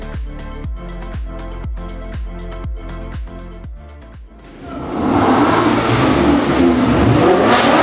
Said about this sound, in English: The Liberty Walk GTR makes its presence, revving hard, blow valve hissing.